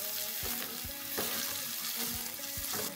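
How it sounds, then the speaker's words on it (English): Sliced onions and a bay leaf sautéing in a pot for mutton biryani, a steady close sizzle broken by a few sharp stirring scrapes, with no talking. "The onions have begun to sweat."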